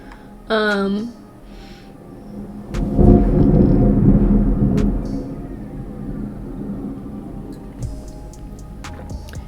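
A brief voice, then deep thunder rumbles outside, swelling loudly and rolling away over several seconds with faint patter beneath.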